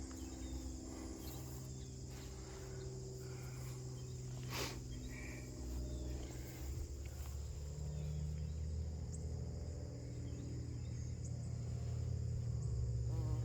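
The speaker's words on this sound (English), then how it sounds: "You can see there's quite a few bees here." Steady buzzing of bees around garden flowers hums close by in an otherwise quiet outdoor setting, with a soft low rumble underneath and no voices.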